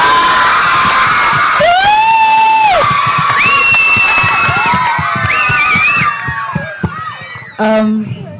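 A launch-event audience for the Rocket Gang trailer cheers, yells and whistles loudly and continuously, with shrill rising whistles and whoops over a dense crowd roar.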